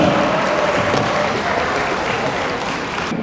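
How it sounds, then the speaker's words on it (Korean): Loud, dense applause fills a church wedding ceremony, a continuous roar of many hands clapping close and even from start to finish, cutting off sharply at the very end. "다시 한번 큰 박수 부탁드립니다"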